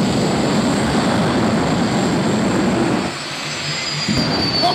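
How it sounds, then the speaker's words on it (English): A jet-powered Mini gives a loud, steady jet-engine roar at Santa Pod raceway during a nighttime stunt show, holding continuous for several seconds before easing slightly near the end. "A spectacular plane show from Andy Plesko."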